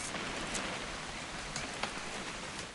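Steady rain falls outdoors as a continuous hiss of drops on surfaces, with a few sharper drips standing out, moderately loud and unbroken with no voices.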